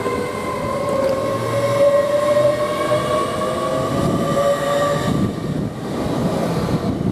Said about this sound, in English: this 1242 service for London King's Cross to Harrogate, LNER Zoomer is just now departing